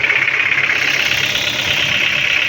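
A Volvo car engine idles steadily, a continuous mid-pitched running hum with faint rhythmic knocking, heard close and alone without talk.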